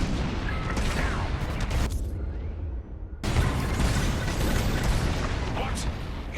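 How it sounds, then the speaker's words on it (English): Heavy booming blasts from bombs dropped during a Star Wars: Squadrons space raid, a dense roaring barrage that cuts out briefly, then resumes loud and continuous. "On my mark, it's bombs away."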